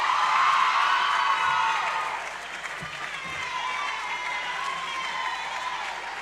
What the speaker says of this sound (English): One more round of applause for our outstanding coaches and staff